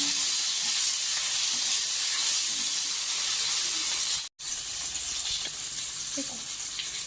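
Tomatoes fry in oil left over from frying fish, seasoned with salt and turmeric, giving a steady hiss and sizzle throughout with a brief dropout midway.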